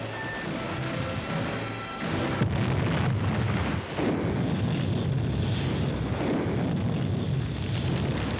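A World War II warplane is brought down in combat footage, heard as a loud roaring crash and explosive rumble that erupts abruptly and then rolls on heavily, with a faint aircraft drone before the impact.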